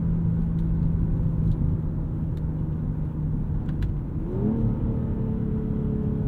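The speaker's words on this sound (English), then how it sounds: "This is probably the best tuning I've felt on this 8-speed gearbox to date with a BMW." A 2023 BMW M340i with an 8-speed gearbox accelerates hard through the Coachella Valley. The engine drones loudly and steadily, then drops briefly at one quick gear change before pulling on again.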